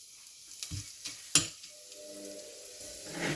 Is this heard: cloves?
yes